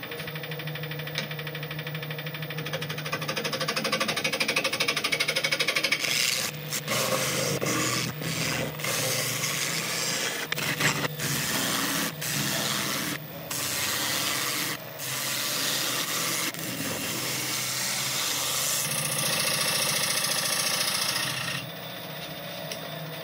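A wood lathe turns a large bowl blank about 12 inches across as it is flattened and squared, giving a steady, loud rubbing and scraping hum broken by repeated sharp tool catches.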